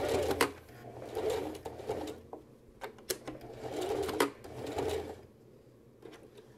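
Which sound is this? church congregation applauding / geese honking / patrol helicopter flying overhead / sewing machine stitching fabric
sewing machine stitching fabric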